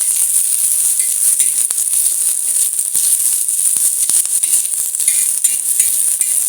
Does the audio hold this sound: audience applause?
no